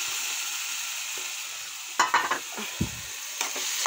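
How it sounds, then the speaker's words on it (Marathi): Eggplant bharta being stirred and mixed in a pan, a steady low sizzle with a burst of scraping and clattering utensil strokes midway, then a few more light taps, close up. "छान मिक्स करून घेऊ."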